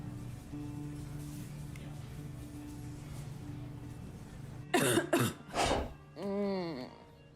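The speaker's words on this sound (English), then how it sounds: "I don't like the sound of that cough." A person coughs several times in quick, harsh bursts close by, with a throaty rasp at the end, after a quiet stretch of low background hum.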